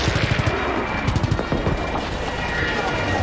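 Rapid bursts of gunfire in a Call of Duty WWII Battle of the Bulge battle, dense and loud, with repeated shots clustering in the first half amid constant battlefield noise.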